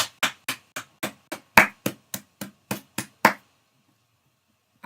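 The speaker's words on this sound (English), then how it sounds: "I'm clapping for myself" About a dozen sharp hand claps by one person, close and loud, evenly paced for a few seconds before stopping into silence.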